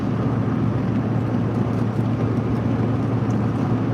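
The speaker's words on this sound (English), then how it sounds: "we're driving our F-350 dually, pulling behind us a 37-foot RV." A Ford F-350 dually pickup towing a 37-foot RV on the road makes a constant, loud, low drone of engine and road noise from inside the cab, unbroken throughout.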